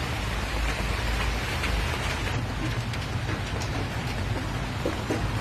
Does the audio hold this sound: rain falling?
yes